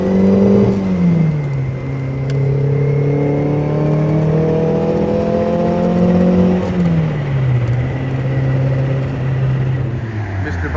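A 1977 Lotus Esprit S1 is driven hard along a sweeping road, heard from the passenger seat. Its engine note climbs loudly and continuously, with gear changes dropping the revs around a second and a half in and again near seven seconds.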